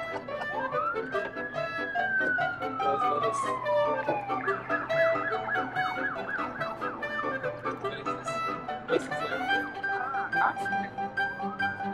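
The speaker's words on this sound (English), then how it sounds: "now we're chasing a police car down the road." A thin, wailing police car siren rises and falls, then breaks into rapid warbling yelps, fairly faint over a steady background hum, on a Paris street at night.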